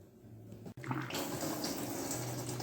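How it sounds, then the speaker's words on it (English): Hydraulic oil, number 32 grade, pours steadily from a full pail into a Woodland Mills WC88 wood chipper. The liquid gurgles and splashes continuously after a brief pause. "Now we're going to put the hydraulic oil in."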